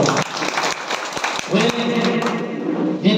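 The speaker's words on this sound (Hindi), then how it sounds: "ताली बजा के सब स्वागत कर रहा हूं" Hands clap in applause at a Janata Samajwadi Party Nepal municipal convention in Rangeli, a brief burst of clapping mixed with a loud voice over a PA.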